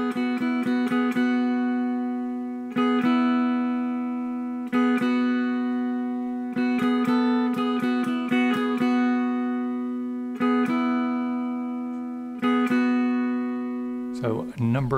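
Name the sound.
simple catchy guitar riff played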